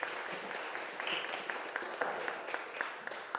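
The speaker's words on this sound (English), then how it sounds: "Please give him a round of applause." An audience welcomes a history professor to the stage with a round of applause: dense, steady clapping, moderately distant and fairly quiet, with a few sharper claps popping out.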